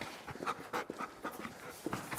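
A Belgian Malinois dog pants rapidly and rhythmically during training, close by and fairly quiet, with breaths coming in quick regular bursts and no talking.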